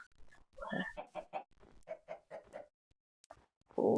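Chickens clucking in a video game, a quick run of rhythmic clucks and squawks at moderate level, followed by a short pause and a brief louder burst at the end.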